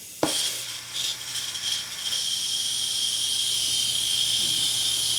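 A steady, loud hiss of escaping air from a Tolomatic pneumatic actuator on an animatronic starts abruptly after a sharp click and continues unbroken, with a few fluttering pulses early on.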